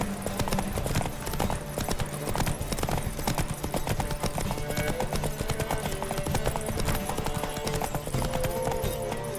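Rapid hoofbeats pound in a fast, continuous rhythm as a horse gallops in The Witcher 3 video game, close and prominent over game music and ambience.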